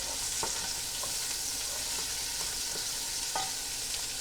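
Food sears steadily in a hot pan for pinto beans with garlic, a continuous close sizzle with small spatters and a few stirring clicks, no voices.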